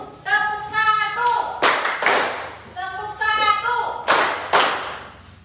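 A classroom group claps together in rhythm, a sharp burst of hand claps repeated twice over talk from a teacher leading the class.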